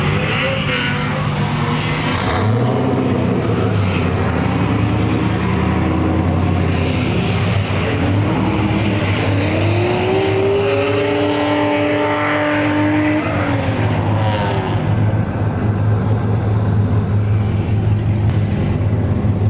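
Drift cars at a grassroots drift event in the Midwest, including a C6 Corvette, rev hard with loud continuous engine roar, rising and falling pitch sweeps and tire squeal, close and sustained throughout.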